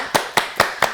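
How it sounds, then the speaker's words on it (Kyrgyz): Four separate hand claps come at an even, unhurried pace, each one sharp and close, with a quiet room between them. They sound like the start of applause welcoming guests on a talk show about a komuz ensemble. "кол чабуулар."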